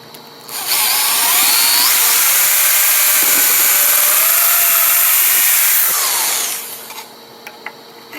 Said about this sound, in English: All I got to do now is drill the hole.